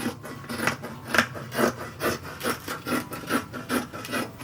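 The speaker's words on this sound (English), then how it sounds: "Now I can cut out my pattern." Scissors cut out a fabric sewing pattern for a 1920s–1940s infant nightgown, making a steady rhythmic series of soft snipping and rubbing strokes, about two per second, close and fairly quiet with no talking.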